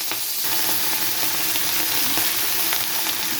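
Panch phoron and green chillies tempering in a little hot mustard oil, a steady loud sizzle and crackle running throughout with a few sharp pops, no voices.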